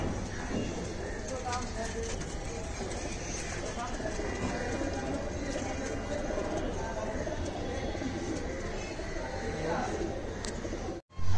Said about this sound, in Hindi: ये एक लाखा ब्रीड है, ये पाकिस्तानी कबूतर है